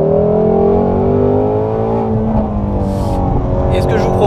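A Ford Mustang Shelby GT350R on a race circuit, its high-revving V8 engine loud and close, holding a sustained rising-and-falling whine with no pauses throughout.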